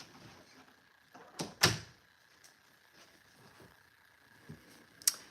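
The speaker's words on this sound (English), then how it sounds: "Let me close this door right here because I get loud." A door closes in a quiet indoor room with a sharp thud, then a few softer knocks and clicks follow, and a short clack comes near the end.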